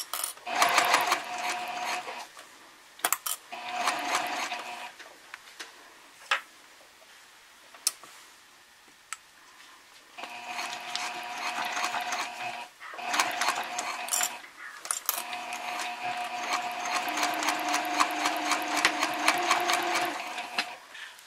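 Close by, a sewing machine stitches a seam on a messenger bag, keeping the fabric edges even. Several short whirring runs are broken by pauses and light ticks, followed by a longer continuous run near the end.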